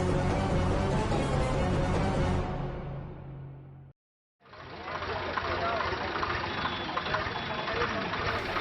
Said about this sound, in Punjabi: ਉਹ ਆ ਗਿਆ ਟਰੈਕਟਰ।